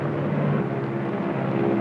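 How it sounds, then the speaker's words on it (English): A bomb-carrying airplane in an old film drones overhead with a steady, loud engine hum that stays constant throughout and has no voices over it. "The bomb-carrying plane makes its initial run."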